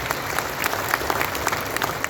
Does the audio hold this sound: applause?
yes